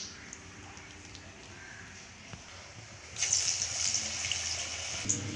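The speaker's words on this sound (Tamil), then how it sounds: "ஏமா சும்மா கை கழுவிட்டு செய்றீங்க?" A kitchen water tap runs while hands are washed during vada batter preparation, a steady gushing splash starting partway through and continuing to the end, fairly close, over a low background hum.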